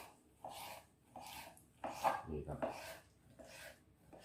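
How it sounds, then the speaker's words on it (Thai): Sumong fruit being sliced thinly for a som tam salad, a few soft scraping chops spaced about a second apart, close by, with someone talking over them. "หั่นสุโมง"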